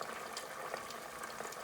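Rice croquettes frying in hot oil, a steady dense sizzle and bubbling throughout with no talking.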